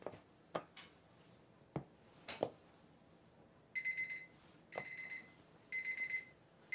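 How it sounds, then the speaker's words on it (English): A kitchen timer alarm goes off for chicken cooking in an oven: three bursts of rapid, bright electronic beeping, each lasting under a second, follow several sharp clatters and knocks at close range. "And that timer is for the Sketti chicken we have in the oven"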